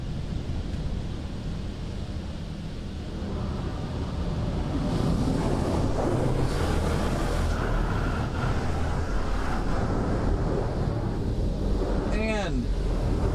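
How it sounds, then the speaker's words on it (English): High-pressure spray of a PDQ LaserWash 360+ car wash pounds the vehicle in a loud, continuous wash of water noise that swells partway through, heard close from inside with a brief whine near the end. "going right into another high pressure cycle"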